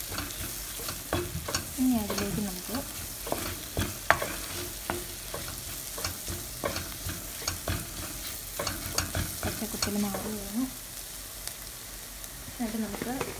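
A spoon scrapes and turns spices and tomatoes for prawn curry around a pan, a soft frying sizzle under repeated scraping strokes at an uneven rhythm, close and fairly quiet, with no voices.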